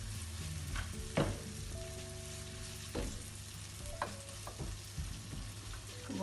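Shallots fry in a pan with a steady, quiet hiss, punctuated by a few sharp clinks and scrapes from stirring.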